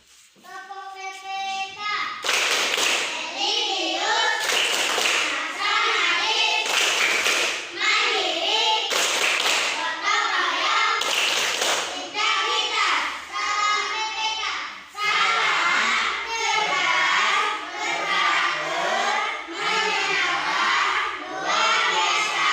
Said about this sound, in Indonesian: sekarang ketua kelas maju ke depan memimpin kita untuk tepuk PPK